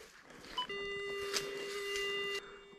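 A metal detector searching in a forest gives off a single sustained electronic tone with harmonics, lasting close to two seconds after a short chirp, steady and fairly loud. Faint rustling sits underneath.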